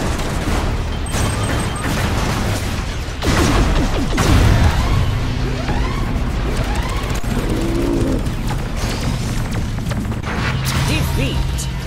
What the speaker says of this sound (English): That's missiles everywhere, sir!